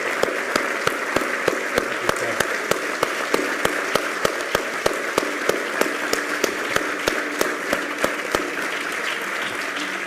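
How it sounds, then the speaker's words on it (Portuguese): Sustained audience applause at a Catholic synod gathering in Portugal, with steady dense clapping and sharp individual claps over a continuous wash, moderately loud throughout. "Vai uma salva de palmas para ti."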